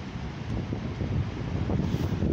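Wind blowing outdoors beside water during a turtle search, a steady loud rush buffeting the microphone with low rumble throughout, no voices.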